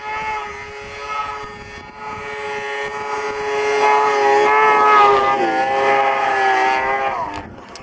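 A Ski-Doo SXR 700 snowmobile with a drilled-out factory exhaust can, its engine droning loudly nearby with harmonic pitch that rises and sweeps as the throttle swells midway, then eases back.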